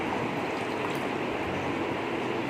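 Cold water poured into a blended lemon and chia seed shikanjabeen, giving a steady, continuous splashing pour close by with no voices.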